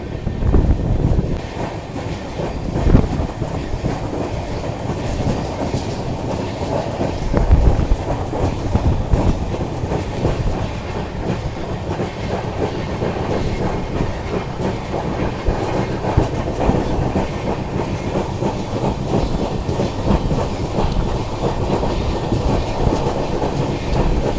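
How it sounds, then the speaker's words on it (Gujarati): A train runs steadily along a newly doubled, electrified line near Jamvanthali station, a loud continuous rumble with clickety-clack wheel beats and wind buffeting throughout. "અત્યારે આપણી ટ્રેન આવી ગઈ છે જામવંથલી રેલવે સ્ટેશન ઉપર"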